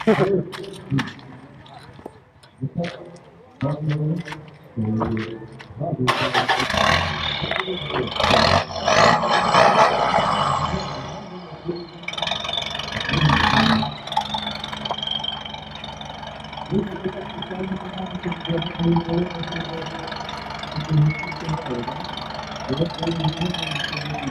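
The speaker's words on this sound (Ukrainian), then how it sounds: "вихлоп заведе, бо завжди гурчало" A Mitsubishi L200 engine cranks, catches and revs loudly, then settles into a rumbling idle with throaty exhaust, while people talk nearby at a sound fest.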